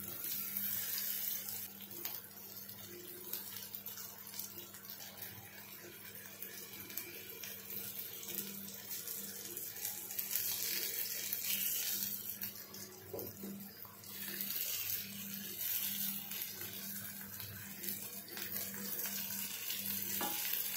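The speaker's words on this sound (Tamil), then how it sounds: "கிழங்கு நல்லா ரோஸ்ட் ஆயிடுச்சு." Elephant yam (karunai kizhangu) pieces roasting in a pan, a steady broadband sizzle and hiss that runs continuously, fairly close and moderately loud, with occasional stirring scrapes and no talking.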